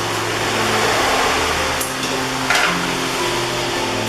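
Jaggery syrup with dry ginger and cumin powder is stirred in a pan for a sweet banana snack, giving a steady close scraping, bubbling texture with a couple of brief clinks, no talking.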